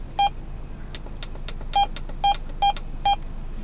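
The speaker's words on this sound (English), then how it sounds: "Scrambler turned on." A Rocky Mountain Radar scrambler powering on gives five short, clean electronic beeps, evenly pitched and spaced about half a second apart, close and clear over a faint hiss.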